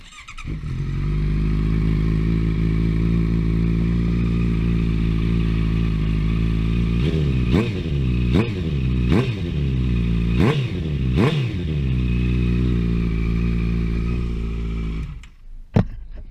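A 2015 Honda CBR 650F Tricolor HRC motorcycle idles loudly with its baffles removed, its open exhaust giving a deep, rough drone, then revs sharply in several quick blips and settles back to idle.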